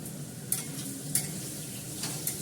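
Food sizzles softly in a pan after a little sugar goes in, with a few light spoon taps scraping the pan at intervals during the stir-fry; no talking.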